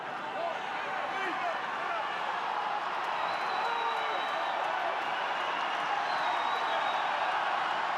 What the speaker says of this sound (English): So Rory Best, as the crowd starts to get into this game